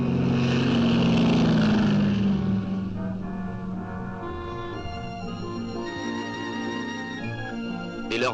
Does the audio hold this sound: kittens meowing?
no